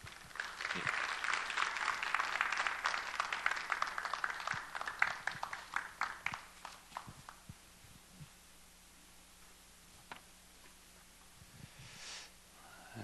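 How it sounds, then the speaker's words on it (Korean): Crowd applause welcoming a speaker at a colloquium, dense clapping that gradually thins out into scattered claps, with a low hum in the background. "박수로 환영해 주시기 바랍니다"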